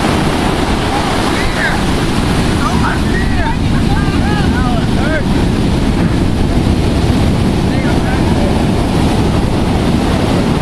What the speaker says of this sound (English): It's the waves out there. The waves.